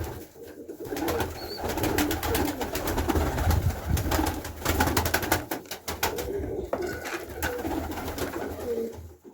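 Pigeons coo in soft repeated calls while pecking at scattered feed on the ground nearby, with continuous light tapping and rustling from their beaks and a few brief flutters, close and fairly quiet with no talking.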